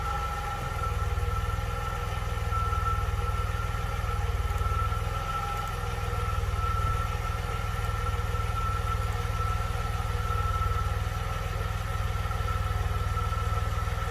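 A warmed-up 1982 DeLorean DMC-12 with a five-speed gearbox idles: a steady, even engine hum that holds at a constant level throughout, with no revving and no talking.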